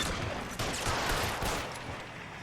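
Heavy gunfire in the 1940s Los Angeles crime game L.A. Noire, a dense loud fusillade of overlapping shots filling the whole moment with no voices.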